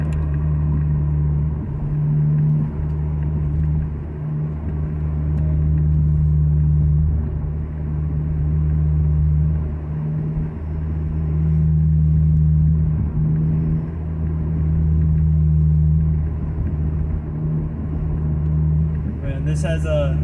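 A 2011 Acura TSX on coilovers drives along steadily, its low engine and road rumble continuous and loud from inside the cabin, swelling and easing slightly as it cruises.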